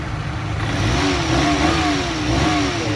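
Daihatsu EF engine in a mini truck revving after a distributor timing adjustment, a close mid-pitched engine note rising and falling through a couple of throttle blips over a steady idle.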